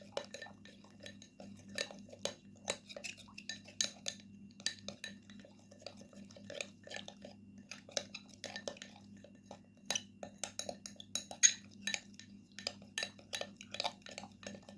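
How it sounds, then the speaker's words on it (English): A spoon clinks and scrapes steadily against a bowl while face mask ingredients including olive oil are mixed, a quick irregular patter of small taps, close and fairly quiet. "Now mix well all the ingredients"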